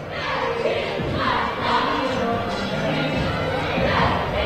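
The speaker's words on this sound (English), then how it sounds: "A nice Tuesday night crowd filing in here" Steady crowd murmur fills a high school gym as spectators file in before a Tuesday night York High versus Central York basketball game, a dense wash of chatter at even loudness throughout.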